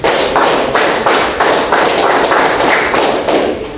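A whole class of seventh graders claps in a steady, evenly spaced beat, about nine loud group claps in a row, each a broad burst of many hands close by.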